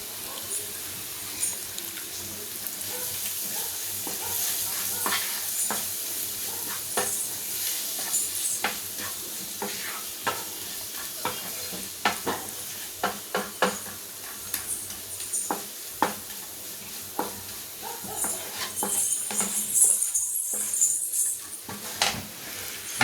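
Pepper paneer stir-fried with coriander in a pan gives a sustained close sizzle under frequent metal spatula clinks and scrapes, with a brief quieter pause near the end.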